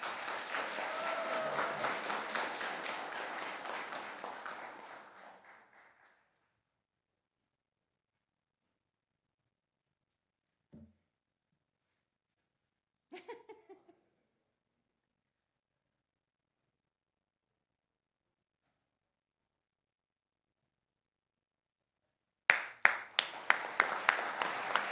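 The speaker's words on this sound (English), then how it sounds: "I think they all deserve a great round of applause." Audience applause at a police officers' swearing-in ceremony, a sustained burst of clapping that fades out after several seconds, followed by near silence, a few faint isolated sounds, then a fresh loud wave of clapping at the end.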